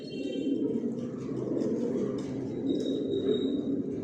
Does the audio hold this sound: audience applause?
no